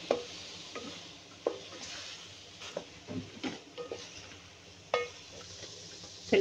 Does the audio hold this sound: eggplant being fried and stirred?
yes